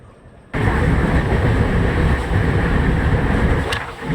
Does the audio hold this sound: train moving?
yes